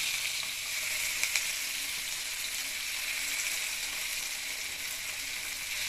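Mackerel pieces frying in a pan give a loud, steady, close sizzle with a faint crackle and no voices.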